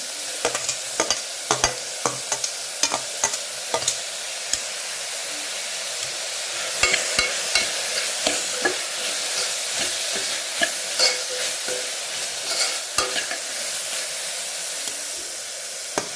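Carrots and potatoes frying in a pan are stirred repeatedly, the spoon clicking and scraping in quick irregular strokes over a steady close sizzle, with no talking.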